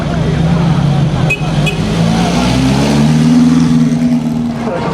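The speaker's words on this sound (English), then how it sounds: "Here's an old Lancia, and here's an old Lancia." Old Lancia cars pass at the Mille Miglia road race, a loud close engine roar rising in pitch as the car accelerates by, with people talking over it.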